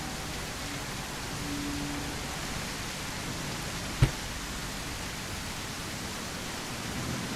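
Heavy rain in the video game Surroundead falls as a steady, even hiss that stays constant throughout, with one brief sharp knock midway.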